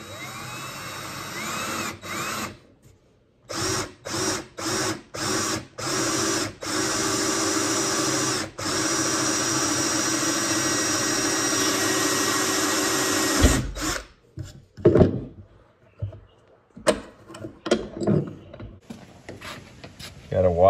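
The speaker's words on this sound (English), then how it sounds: "just drill a hole in there" A power drill bores a hole in a homemade biodigester tank, first in several short whirring bursts, then in one long sustained run, followed by stops, clicks and a person talking nearby.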